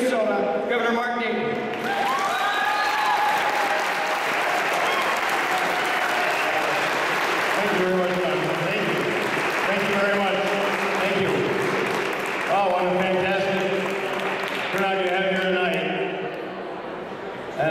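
A crowd at Greater Mankato Day at the Capitol applauds steadily to welcome Minnesota Governor Mark Dayton, a dense, sustained clapping that fades slightly near the end, with voices mixed in.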